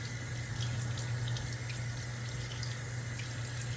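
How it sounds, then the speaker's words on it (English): Tap water running steadily into a bathroom sink during a skincare face wash, a continuous close hiss with no talk. "Then you turn up the water obviously so you can get more water."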